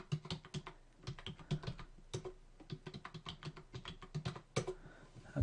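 Someone types a password on a computer keyboard while protecting a spreadsheet; rapid, irregular clicking keystrokes sound close and clear, with brief pauses between bursts.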